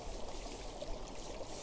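River water flows in a continuous, even rush and trickle, a steady close wash of water added as a sound effect for a bedtime story.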